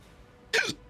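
A single short, sharp hiccup bursts out close up, with quiet around it.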